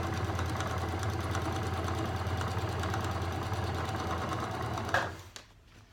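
A domestic sewing machine stitches an elastic waistband in a steady, fast whirring run for about five seconds, then stops abruptly, leaving quiet handling noise.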